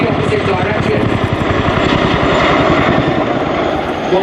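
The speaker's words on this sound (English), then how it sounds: "Whilst the Chinook operates above" Chinook HC5 twin-rotor helicopter performing a flying display at an air show, its loud, steady rotor thump and engine roar filling the air continuously at close range.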